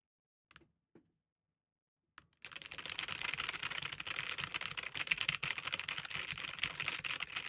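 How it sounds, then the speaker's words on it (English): Typing on an old computer keyboard: a couple of isolated key clicks, then after a pause a dense, continuous clatter of rapid keystrokes, close and fairly quiet. "This was the old keyboard."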